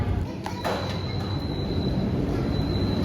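An underground metro train slowing into a station, a steady loud rumble of wheels and carriage noise with a thin high whine and faint brakes, voices softly underneath.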